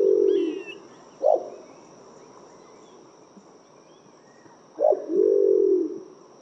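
Andaman green imperial pigeon, an endemic subspecies of the Andaman and Nicobar Islands, giving two low, deep coos a few seconds apart, clear and fairly close over a faint steady hum.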